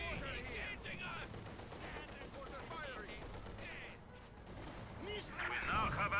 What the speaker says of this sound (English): MG engaging us.